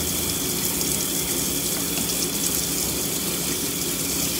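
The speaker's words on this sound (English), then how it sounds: "Let me rinse this boy off." Tap water runs steadily as a Boxer dog is rinsed during a bath, a continuous close hiss and splash with no breaks and no talk.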